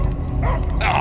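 A dog barking in the Guardians of the Galaxy video game: short, close yips and barks mixed in with game voices and background sound.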